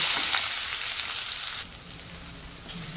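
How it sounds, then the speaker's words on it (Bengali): Sliced onions frying in a hot wok for an onion and bitter gourd mash, a loud close sizzle that drops sharply halfway through to a quieter crackle. "পেঁয়াজকে এখন উল্টে পাল্টে ভালো করে ভেজে নিতে হবে।"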